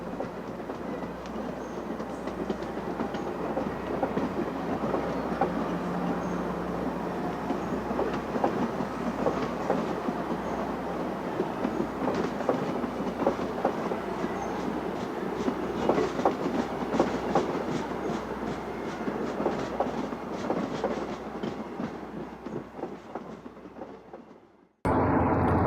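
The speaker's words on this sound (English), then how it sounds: "An autumn view at Cold Spring as a cut of MP-54s return to the hub at Jamaica." A cut of MP-54 electric commuter multiple-unit cars rolls past on an autumn curve at Cold Spring, a steady loud rumble with rhythmic wheel clatter over rail joints lasting most of the pass, ending abruptly.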